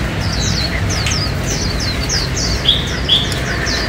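A Japanese white-eye songbird with fresh new plumage chirps in a steady run of short, high, rapid chirps, fairly close, with two brighter notes near the end over a constant background hiss.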